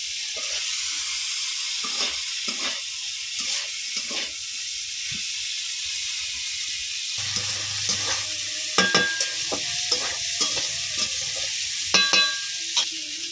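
Masoor dal with cauliflower is stirred in a pan over a constant sizzle, with scattered scrapes and sharper metallic knocks of the spoon against the pan growing busier toward the end.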